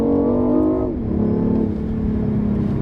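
BMW i8 hybrid sports car accelerating at full throttle from inside the cabin, a loud engine drone climbing in pitch, dropping at a gear change, then pulling up again steadily with no talk.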